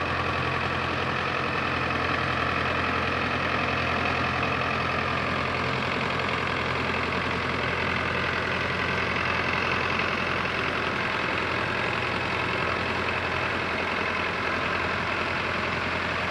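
A four-cylinder, 57-horsepower diesel engine on a Belarus 510 tractor idles steadily, a close, continuous low rumble with a knocking texture that holds evenly throughout with no talk.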